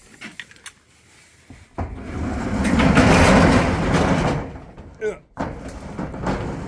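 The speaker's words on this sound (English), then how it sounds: "Let me open this door." A door in a workshop is pulled open with a long rolling, rumbling slide lasting a few seconds, loud and close, framed by brief handling knocks and a short squeak near the end.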